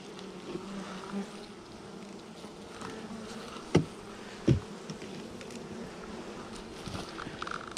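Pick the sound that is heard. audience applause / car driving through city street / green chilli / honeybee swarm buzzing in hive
honeybee swarm buzzing in hive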